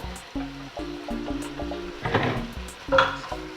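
Butter beans and mixed beans being stirred in a pan, soft wet scraping and sloshing bursts with a couple of louder stirring strokes, set under quiet steady tonal background music.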